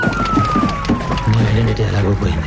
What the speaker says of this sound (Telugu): వినిపిస్తుందా ఆ బ్యూటిఫుల్ సైరన్ సౌండ్?